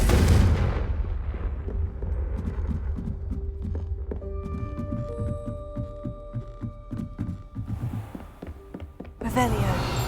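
In the Hogwarts Legacy video game, Confringo fire spells go off as repeated thudding blasts amid a rumbling, throbbing soundscape, with one louder burst near the end.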